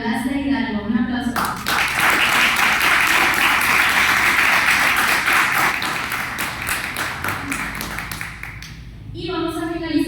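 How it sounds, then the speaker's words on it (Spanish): Audience applause at an academic panel session on academia and activism, dense clapping from a room of listeners that swells and then fades, with a voice speaking briefly before and after. "Un aplauso."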